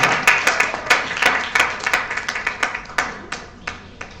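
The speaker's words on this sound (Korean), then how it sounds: "박수 부탁드리겠습니다" Scattered clapping from a modest audience at a book concert, individual hand claps distinct and uneven in rhythm, fairly close, gradually loosening and thinning toward the end.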